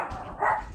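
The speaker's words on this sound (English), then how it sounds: "Hopefully my little dog can be quiet for a second" A small dog gives a single short, close bark with no other sound around it.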